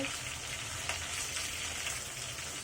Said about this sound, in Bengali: মাছের অন্য পাশটা ফ্রাই করা হয়ে গেছে দেখতেই পাচ্ছেন দুই পাশ একইভাবে ফ্রাই করা হয়েছে